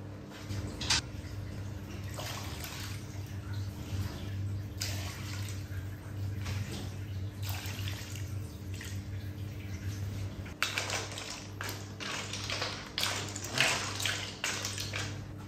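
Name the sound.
broth poured into pot of clam soup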